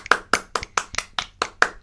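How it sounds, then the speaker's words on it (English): Eight evenly spaced, light hand claps from one person, a polite golf clap, close and alone with no talk. "I did golf clap."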